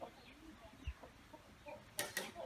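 Rooster and hens in a farmyard setting, with soft scattered clucks and a brief low thump, ending in two louder bursts of squawking or wing noise near the end.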